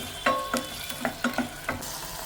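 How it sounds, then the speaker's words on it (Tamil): Tomatoes being sautéed in a pan until they soften and break down for methi rice, with a quiet sizzle under five or six distinct scraping stirs of a spoon against the pan, spaced irregularly and close by. "கொஞ்சம் நல்லா வணக்கிக்கோங்க டமோட்டோ உடையிற வரைக்கும்."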